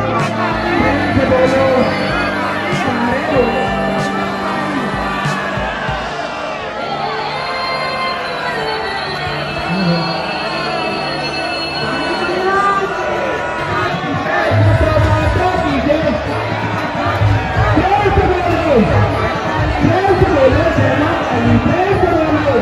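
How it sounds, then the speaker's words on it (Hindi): Dense crowd noise at a Maa Kaali Navratri darshan in Takhatpur, a steady roar of many voices with shouts and cheers throughout, loud and continuous with someone talking close by. "गजब भीड़ यार"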